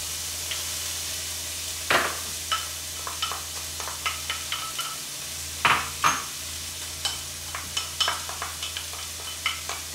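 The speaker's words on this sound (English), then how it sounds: "now to the same skillet, we are going to add our peppers and our onions that were already cut." Peppers and onions go into a hot skillet, giving a steady low sizzle broken by sharp scraping clicks of a utensil stirring against the pan, close and clear with no talk.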